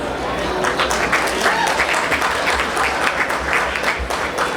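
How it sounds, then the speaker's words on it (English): Wedding reception guests applaud after a speech introduction, a dense, sustained round of clapping from a crowd filling the room, with voices mixed in under it. "Give a round of applause."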